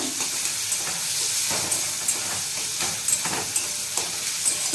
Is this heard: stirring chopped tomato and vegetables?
yes